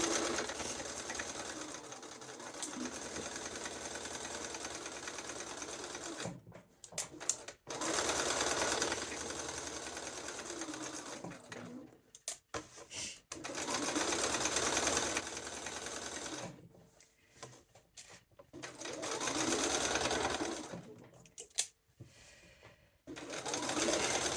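A sewing machine runs in long steady bursts as two pocket bags are stitched together, with several short pauses between runs, close and fairly quiet with no talk.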